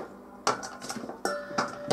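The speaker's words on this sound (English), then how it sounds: "Okay, put them in a bowl." Cut carrot pieces drop into a bowl in two short bursts of knocking and clattering, close and fairly loud, with no talking.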